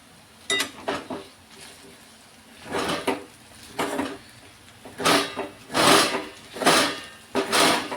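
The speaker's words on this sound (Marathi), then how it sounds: "आता ह्याच्यामध्ये थोडंसं तूप टाकते आणि परतून घेते एकदा" A spoon stirs and sautés food with ghee in a cooking pot, producing irregular bursts of scraping and metallic clinks against the pot, fairly close and with no talk.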